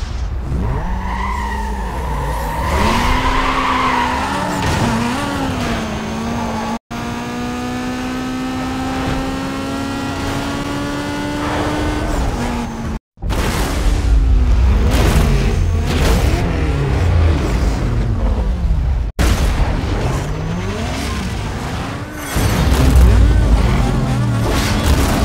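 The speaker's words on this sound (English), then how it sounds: "I'm gonna slam on the gas pedal and just see how the Viper handles." Dodge Viper racing in Need for Speed Most Wanted, its engine revving hard with rising gear-change sweeps and tire skids, loud and continuous over game music.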